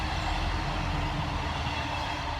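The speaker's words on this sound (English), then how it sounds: "Train's coming" A train passes near an allotment garden, giving a steady, broad rumble with rolling wheel noise that stays loud and even throughout, with no talking.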